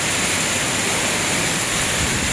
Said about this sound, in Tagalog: Biglang buhos ang malakas na ulan.